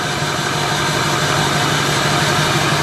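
The 7.3L diesel in a 1999 Ford F450 dually crew cab idles with a steady, even clatter and rumble that stays constant throughout.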